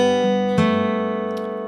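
On a fingerstyle acoustic guitar, a low G bass note rings together with a melody note in the hymn "As Bread Is Broken", a single plucked attack followed by sustained, slowly fading ringing, close and unaccompanied.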